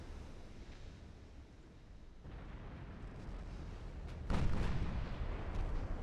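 Naval guns fire in Ultimate Admiral Dreadnoughts, a low rumbling battle din rising into one heavier boom about two-thirds through, with a steady roar of gunfire and sea noise underneath and no voices.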